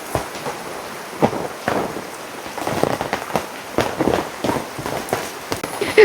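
Heavy monsoon rain pours steadily on a house's roof tiles, a dense continuous hiss punctuated by louder drips and splashes, close and alone with no voices.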